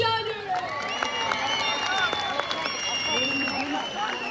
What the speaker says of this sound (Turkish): kendisine kocaman bir alkış rica